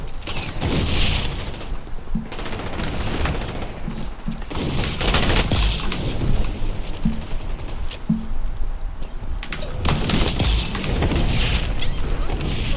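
A frag grenade explodes in the shooter game XDefiant amid dense, continuous gunfire and booming blasts, with loud overlapping shots and detonations throughout.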